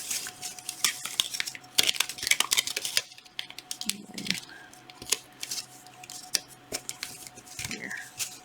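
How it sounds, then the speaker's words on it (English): Tape is torn from a roll and pressed down, with a burst of crackling rips followed by softer crinkles and rubs at close range. "I'm going to secure the top of it with a large piece of tape."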